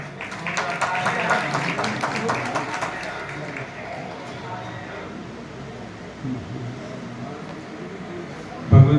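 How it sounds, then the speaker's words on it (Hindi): Audience at a Bhagavat Katha gathering in a temple claps together, a dense burst of applause that fades over several seconds, with voices and crowd noise beneath. "तो इनके लिए जरूर जोरदार तालियां जरा।"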